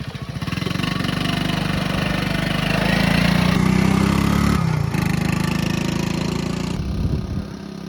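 A three-wheeler's small engine runs loud and close in a steady buzzing drone as the machine rides off, its pitch rising and dipping slightly, then easing toward the end.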